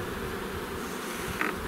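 Honey bees buzz softly during an early-spring March hive inspection, a faint, steady, close-up droning hum with a brief swell near the end, and no voices.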